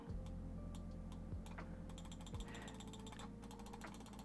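A Marvo Niro gaming mouse gives a series of crisp button clicks with a loose, rattly clatter in the button, quiet and close, with irregular taps spread through the clip.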